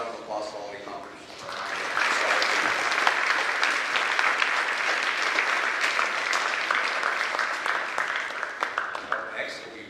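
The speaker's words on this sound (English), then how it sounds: "So one more round of applause for all the accomplishments" Applause from an audience at a high school academic and fine arts awards ceremony, building quickly from a murmur of voices into sustained clapping, then thinning to scattered individual claps at the end.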